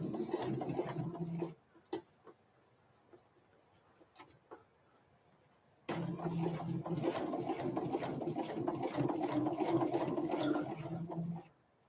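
A home sewing machine runs a short burst of stitching, stops for a few seconds of quiet with small clicks, then starts up again and whirs steadily for several seconds before stopping.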